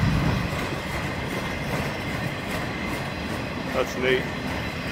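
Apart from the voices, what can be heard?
freight train hauling wind turbine propellers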